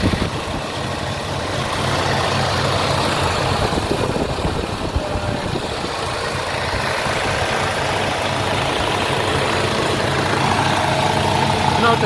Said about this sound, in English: And this is the engine running.